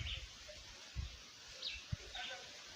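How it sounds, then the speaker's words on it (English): Birds in rural Jamaica near banana trees giving a few faint scattered chirps and calls, distant and quiet over soft outdoor background with occasional low thumps. "you can hear the birds' music."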